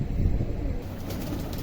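Pigeons feeding on scattered grain give low, soft cooing and murmuring close by, with faint shuffling and pecking and no voices.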